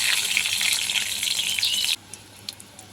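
Two dried red chillies and three bay leaves fry in hot oil for a vegetarian mung dal, a bright steady sizzle that cuts off abruptly, leaving a quiet pan with faint crackles.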